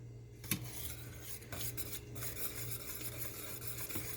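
Tomato paste being stirred into homemade pizza sauce in a bowl, heard as quiet, close, repeated rubbing and scraping strokes of a utensil with a few light knocks, without speech.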